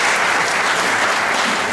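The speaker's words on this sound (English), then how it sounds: "Let's welcome our teacher with a big round of applause." An audience at a national auto tech fest in Kolkata claps to welcome a teacher, dense steady applause filling the whole stretch, fairly loud and close.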